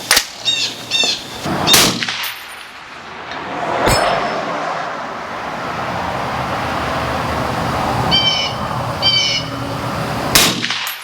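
A PSA Sabre .308 AR-10 rifle fired at a steel target on an outdoor range, sharp loud reports each followed by a ringing metallic clang of the hit, several shots spaced seconds apart over a low background wash.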